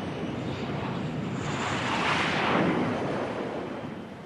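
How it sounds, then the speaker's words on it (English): A fighter jet comes in to land on an aircraft carrier's flight deck at sea, a broad roaring rush that swells to a peak around midway and then eases off, with no talk. "DeGennaro's maneuvers must be exact as he guides the speeding plane toward the flight deck"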